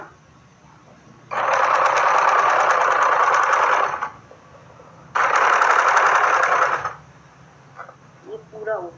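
Two separate bursts of close, fast machine stitching, each lasting a few seconds with a pause between, as a sewing machine sews a seam on a salwar; small handling sounds follow the second burst.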